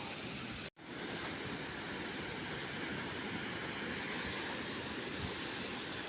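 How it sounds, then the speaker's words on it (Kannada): Water pours over Naviltirtha dam near Munavalli in Belgaum district, a steady, dense roar of falling water with a brief dropout near the start, no voices. "ನೋಡ್ರಿ ಡ್ಯಾಮ್ ಹೆಂಗೆ ನೀರು ಬೀಳ್ತದಂತ."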